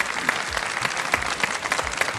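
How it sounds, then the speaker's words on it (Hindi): Audience clapping at a Pakistan Day award ceremony, brisk, energetic applause from a crowd filling the short stretch with sharp overlapping claps and no speech on top. "तालियां बजती रहनी चाहिए भाई"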